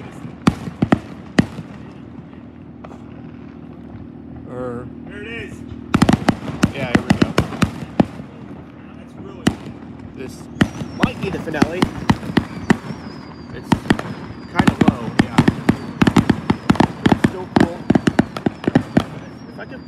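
An Independence Day fireworks finale erupts in dense, rapid volleys of loud bangs and crackles that build after a quieter opening, nearby and continuous, with some talk mixed in.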